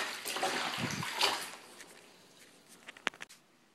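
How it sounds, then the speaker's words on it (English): Cloth diapers are swished and agitated by hand in a tub of water with Rockin' Green detergent, giving a close sloshing wash that fades into a few soft drips and small splashes. "I'm just gonna give it a little swish and agitate them a little bit."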